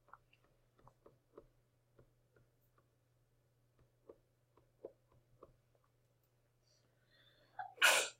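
Someone in a math classroom sneezes once, a loud, sharp burst near the end that follows several seconds of faint, scattered ticks and small tapping noises in a quiet room.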